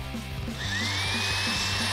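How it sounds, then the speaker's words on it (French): A power drill drives a screw into a wooden beam while building a mini house from a caravan, a steady whirring motor with a rising whine, close and loud. "Je vais la visser, frérot."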